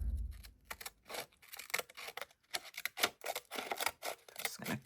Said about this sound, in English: so then I'm going to use these scissors.